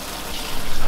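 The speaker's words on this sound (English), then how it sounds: "So pretty generic, normal shower spray" A standard shower spray head running, giving a loud, close, broadband hiss of spraying water that swells slightly toward the end of a brief burst, with no voices.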